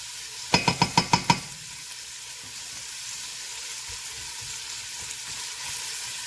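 Garlic and vegetables fry in a soup pot for borscht, with a quick burst of about six sharp clacks near the start, then a faint, steady sizzle.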